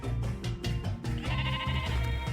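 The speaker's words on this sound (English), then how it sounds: "Oh my god, there's so many sheep." Many sheep bleat in overlapping calls in Primitive Society Simulator over a steady synthetic game-like background, loud and close, one bleat after another.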